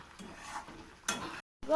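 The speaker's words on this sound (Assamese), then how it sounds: "এইখিনি ভাজি থাকোঁতে বহুতো চিটিকনি আহে দেই" Ghee being made as butter fries in a pan, a soft crackling sizzle with faint splattering pops under light stirring and utensil clatter, quiet and close, with a brief dropout near the end.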